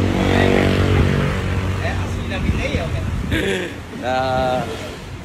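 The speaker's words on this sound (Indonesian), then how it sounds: "kita ada sekitar 300 motor ya" A large group of Yamaha RX King motorcycles, about 300, rides together on the road, a loud continuous roar of engines with a passing rise, while people talk over it.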